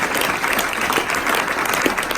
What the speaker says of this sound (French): Donc toi qui acclames pas, tu attends quoi pour acclamer?